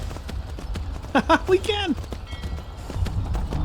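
Clip-clop of horse hooves in the video game Skyrim, a steady run of light taps under a brief spoken comment.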